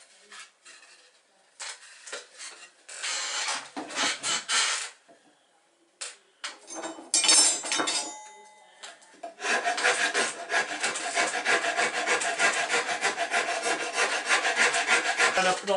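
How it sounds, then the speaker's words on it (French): A file rasps the transom of a small wooden toy boat round, giving scratchy back-and-forth strokes in short bursts at first, then a long steady run of close, rhythmic rasping. "maintenant on va bien limer pour avoir un tableau arrondi"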